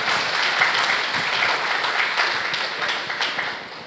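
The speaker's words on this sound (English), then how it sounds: "Please welcome her with a round of applause." Loud, sustained applause from a conference audience welcomes a speaker about to talk on Kotlin, steady at first and tapering slightly toward the end.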